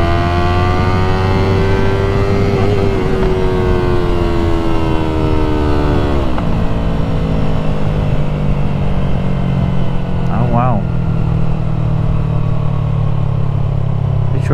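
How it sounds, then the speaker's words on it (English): A Yamaha MT-03 motorcycle with a full exhaust roars steadily at full throttle with a loud, raspy exhaust, its pitch shifting and dropping partway through as it speeds along. "really moving along on that motorcycle there, ain't he?"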